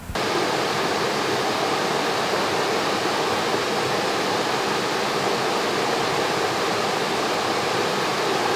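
River water at the Suntulin rushes in a loud, steady broadband roar, continuous and unbroken throughout with no voices.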